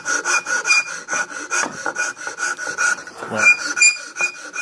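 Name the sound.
hand file filing a slot in wood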